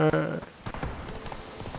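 Hooves clip-clop in a quick, uneven rhythm as a horse runs in The Witcher 3, fairly close, with someone talking over the hoofbeats.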